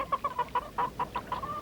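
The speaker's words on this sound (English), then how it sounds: "We don't have any feed left for the chickens." Chickens on a raft at sea cluck in a quick series of short, close calls, about a dozen clipped bursts in steady succession with no talk over them.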